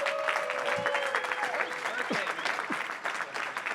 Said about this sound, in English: Give a round of applause for Carl Drew.